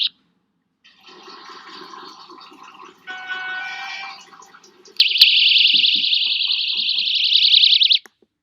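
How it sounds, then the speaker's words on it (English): An SOS alarm sounds as a steady, loud, shrill electronic tone lasting about three seconds near the end, after a stretch of quieter, indistinct noise. "By pairing the CS, which is the tone, with the US, which is the SOS alarm, Franklin eventually produces a CR of fear t"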